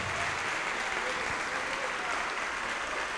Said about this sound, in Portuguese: vamos aplaudir ao Senhor Jesus por cada vida que está chegando